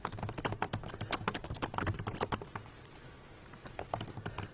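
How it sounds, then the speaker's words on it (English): Fast, crisp keystrokes on a computer keyboard rattle in a dense burst for about two seconds, then thin out into scattered, quieter taps. "typing, if you can't tell."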